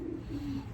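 Racing pigeons coo softly in a loft, a short low throaty coo close by against a quiet background.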